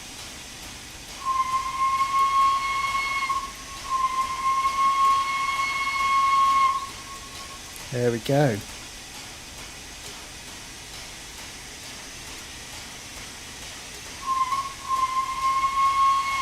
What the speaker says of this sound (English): It does sound really nice, that whistle.